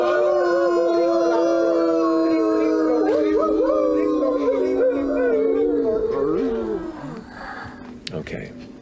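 A group of people imitate wolf howls together, long overlapping rising and falling wails held for several seconds that waver and fade out, followed by a few scattered voices.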